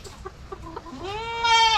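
Chickens, white and brown native hens laying eggs, vocalizing close by, a few short clucks followed by a longer rising, drawn-out call that swells louder toward the end.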